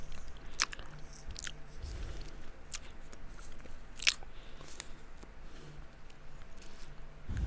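Gum is chewed close to the microphone, with soft, irregular wet smacks and clicks scattered over a quiet background and no talking.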